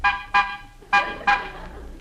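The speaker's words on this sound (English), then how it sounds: "Honk the horn." An old car horn toots four short blasts in two pairs, loud and close, with a brief pause between the pairs.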